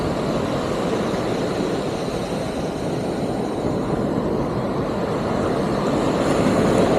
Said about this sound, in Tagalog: Malakas pala siya, malakas yung alon.